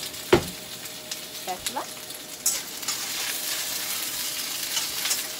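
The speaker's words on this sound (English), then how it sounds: "So just kind of stir fry them" Baby bok choy stir-fried in a hot pan: a loud, steady sizzle with sharp spatula scrapes and clanks near the start, then a continuous hiss, plus a brief spoken remark.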